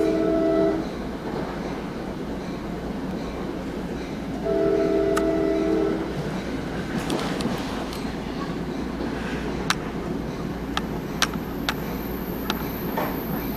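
From aboard a passenger train on the way to Radburn Fair Lawn, nearing a level crossing: a steady rumble of rails and carriage noise, with two short tonal horn or bell blasts and sharp clicks, while a voice murmurs faintly.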